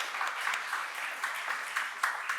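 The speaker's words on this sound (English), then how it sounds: "give a massive round of applause to everybody who's organised and put this event on today" Audience applause for the organisers at a digital marketing conference talk, a short burst of many hands clapping at moderate level, fairly distant, with no talk over it.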